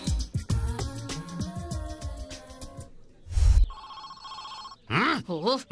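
Telephone bell ringing in short electronic bursts, mixed with music and a voice, with a warbling ringtone near the end.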